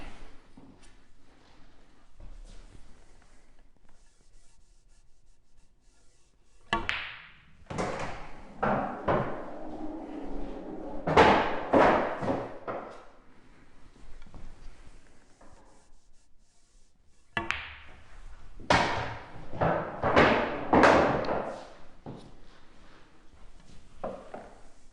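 Pool balls set back down onto a pool table, giving two clusters of sharp clacks and knocks, close and fairly loud over a quiet room, with no talking.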